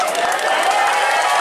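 A crowd at an outdoor sermon by Ustadz Nana Gerhana in Tanjungsari, Sumedang bursts into dense, steady applause that stays loud and even throughout, with a faint crowd murmur.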